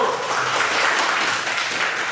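Students in a classroom applaud group one after a school presentation, a dense, even wash of clapping from many hands that holds steady throughout without speech.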